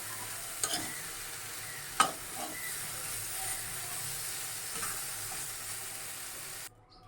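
Pointed gourd frying in a pan is stirred, a low steady sizzle with a few soft scraping knocks of the spatula, quiet and close, no talk.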